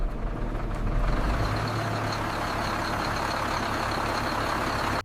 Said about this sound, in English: The engine is started for the first time.